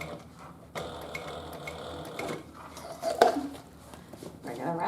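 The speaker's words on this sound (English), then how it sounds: "the walking foot machine just goes so nicely over those little humps" A walking foot sewing machine stitches over the gusset of a handbag in bursts of rapid mechanical clatter, with pauses and a louder thump midway as it crosses a bump.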